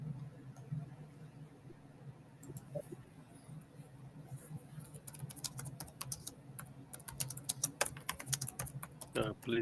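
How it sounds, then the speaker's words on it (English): Someone types hard on a computer keyboard during an online class, with fast clustered clicks that grow denser and louder toward the end. A faint low hum and some background voice sit underneath. "Whoever is typing violently, please mute."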